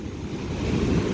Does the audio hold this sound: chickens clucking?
no